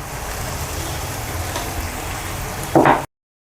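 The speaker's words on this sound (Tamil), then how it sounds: "இப்போ வந்து வெங்காயம் தக்காளி எல்லாமே நல்லா வதங்கிடுச்சு" Onions, tomatoes and salt sautéing in a pan for mutton curry, a steady soft sizzle with a brief louder stir or clatter near the end, no talk.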